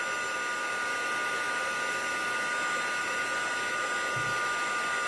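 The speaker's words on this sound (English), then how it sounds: "this heat gun gets really hot" A heat gun blows hot air over stamped ink in a card-crafting setting, a steady, loud whooshing drone that runs unbroken the whole time with no talk over it.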